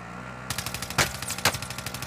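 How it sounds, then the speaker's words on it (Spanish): Rapid automatic gunfire in the shooter video game Warzone, a steady close burst of regular shots with two louder blasts mixed in, no voices. "Son bonitos esos disparos"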